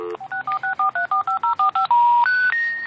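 A telephone keypad sends a quick run of about a dozen evenly spaced touch-tone beeps, then several longer held tones, loud and close with no talking.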